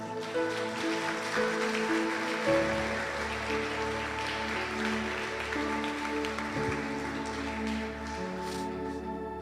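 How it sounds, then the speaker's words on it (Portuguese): A church congregation claps together in sustained applause, a dense, even wash of hand claps over steady organ or keyboard chords that lasts throughout. "dê a Ele a sua melhor salva de palmas"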